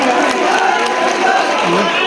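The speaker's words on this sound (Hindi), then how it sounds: "एक बार जोरदार तालियां हो जाए" Loud, dense crowd noise at a political rally awaiting Lok Sabha Speaker Om Birla, with sustained applause and cheering filling the space continuously without pause.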